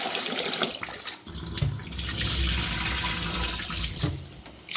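Running water splashes and swirls close by as rice for Kerala appam is rinsed, a continuous rushing sound with brief dips and sloshes.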